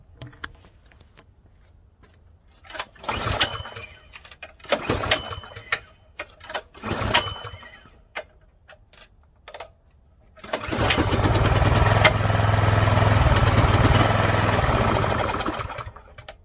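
A freshly cleaned snowblower with little gas in the tank takes several separate pull-start attempts, heard as short bursts with pauses between them. The engine then catches and settles into a loud, steady, close-up idle until the end.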